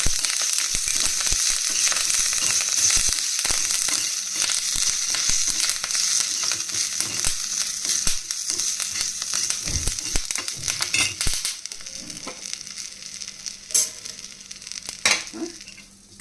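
Dried red chilies and curry leaves temper in hot oil for an ash gourd kootu, a loud, dense crackling sizzle with rapid popping that continues throughout and thins slightly toward the end.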